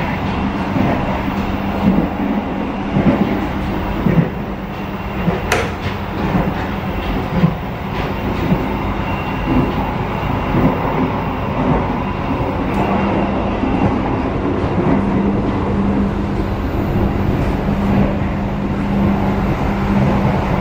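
Inside the Argo Bromo Anggrek express, executive class, running fast as another train passes. A loud, continuous rumble and rattle of wheels on track goes on throughout, with a few sharper knocks and no talk.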